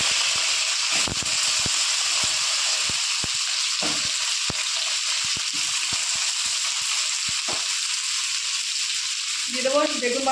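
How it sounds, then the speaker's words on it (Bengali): Eggplant pieces frying in the same hot oil left from frying bhola fish, a steady close sizzle with scattered sharp crackles and spatters throughout, no voices. "এবার ওই তেলেই প্রথমে আমি বেগুনগুলো ভেজে নেব।"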